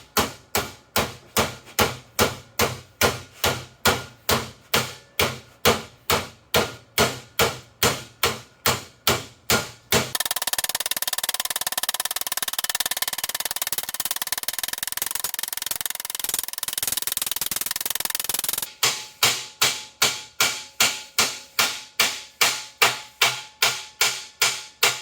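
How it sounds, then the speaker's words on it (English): A ball peen hammer strikes sheet metal in fast, regular bursts of sharp ringing blows while bending a Jeep YJ fuel cell panel, pausing for a stretch of hissing noise before the pounding resumes. "I'm just working it over with a hammer"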